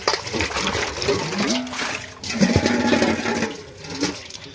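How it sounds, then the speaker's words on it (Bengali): Water splashing and gurgling as a whole palm fruit is washed by hand in a village setting, a close, continuous wet rush with brief pauses and surges. "এই জন্য প্রথমে তালটাকে ধুয়ে নিচ্ছে ভালো করে জল দিয়ে।"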